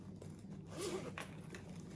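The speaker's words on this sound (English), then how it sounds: "And then there's a zipper on the back wall as well." A zipper on a makeup-style bag is pulled open, a short quiet zip close to the microphone with faint handling noise around it.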